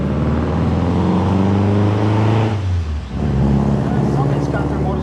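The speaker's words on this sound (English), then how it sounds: "Somebody's got their motorcycle out or sports car." A motorcycle or sports car engine revs nearby, a loud sustained rising drone that drops away around the midpoint before another engine note resumes; a voice talks over it at times.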